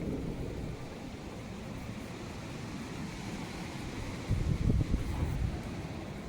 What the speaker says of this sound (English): It is windy, let me tell you.